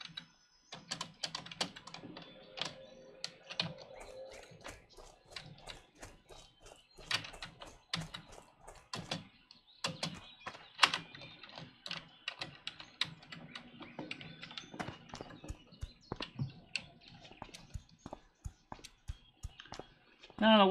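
Computer keyboard typing with dense, uneven bursts of key clicks, including the arrow keys, during a session of classic World of Warcraft; the clicking runs steadily throughout with a voice talking intermittently over it.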